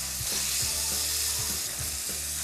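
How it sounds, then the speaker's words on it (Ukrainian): Marinated meat fries in olive oil in a hot pan, a steady close sizzle with faint stirring knocks, no talking. "Поки смажиться м'ясо, я його швиденько поріжу ось такими кільцями."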